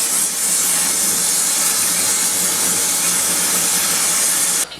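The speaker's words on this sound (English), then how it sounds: "I'm going to torch things a little" A blowtorch roars with a steady, loud, broadband hiss while heating a forged steel herb drying rack, holding evenly for nearly five seconds before cutting off abruptly.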